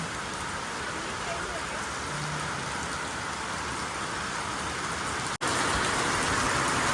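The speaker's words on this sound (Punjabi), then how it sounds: "ਚਲੋ ਬਈ ਮੀਂਹ ਤੇਜ਼ ਆ ਗਿਆ" Heavy rain pours steadily onto a surface, likely tin sheets, as a loud continuous wash of noise, broken only by one brief dropout near the end.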